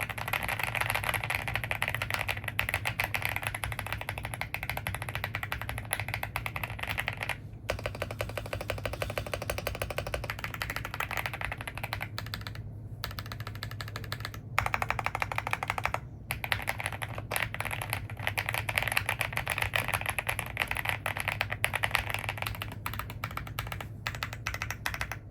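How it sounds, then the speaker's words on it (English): Typing on a Mercury K1 Pro keyboard: a steady, dense stream of close, crisp keystrokes runs the whole time with only brief pauses, and nobody speaks. "I can share what this keyboard sounds while typing"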